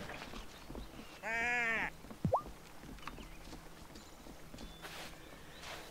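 A single bleat from a sheep in the farming life-sim game Wylde Flowers, where brown and black sheep appear, rises clearly for under a second. A short swooping game effect follows over a quiet background.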